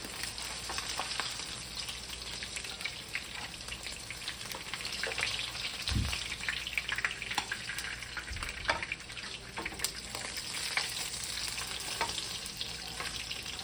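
Rohu fish pieces frying in oil, a continuous close crackling sizzle with scattered pops and a couple of low thumps, steady throughout, with no talk.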